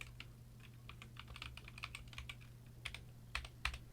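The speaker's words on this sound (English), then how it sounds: "This is the GK66 typing on my phone" Rapid clicky keystrokes on a GK66 60% optical mechanical keyboard connected by Bluetooth, irregular bursts of typing close up against a quiet low hum.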